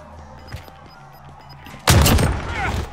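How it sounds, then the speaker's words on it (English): Shotgun fire in a Call of Duty Gulag match, a few quieter thumps and clicks followed by a loud heavy blast with a lingering rumble. "Got a shotgun."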